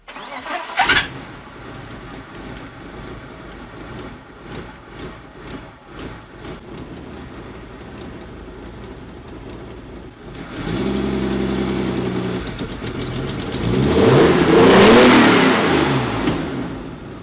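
A BMW E36 M3 race engine with individual throttle bodies cranks and fires, idles roughly, then revs up loudly in rising and falling bursts, close and alone with no talk.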